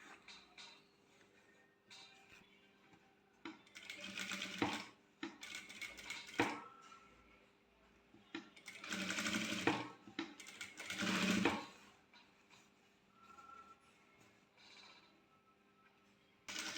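A sewing machine stitches lining cloth for a maxi top in several separate bursts with quiet pauses between them, heard close and alone.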